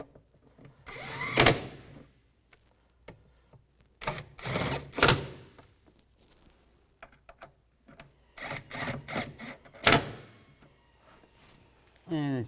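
Bolts are tightened during a blower motor replacement on a 2004-2010 BMW X3, with bursts of ratcheting clicks in several short runs separated by quieter pauses and handling noises, close up.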